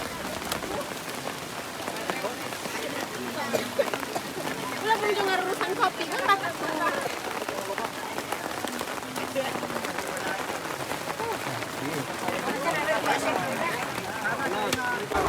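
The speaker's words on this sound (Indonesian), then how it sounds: "Sayang sekali pada kesempatan kali ini hujan tiba-tiba turun memberkati" Steady rain falling in a forest during a bridge-building gathering of the Baduy people, a continuous patter spread evenly across the whole stretch, with people talking underneath.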